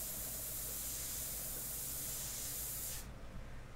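An airbrush spraying detail paint at lowered air pressure for a portrait, a steady, close hiss that holds evenly, then drops to a softer, duller hiss near the end.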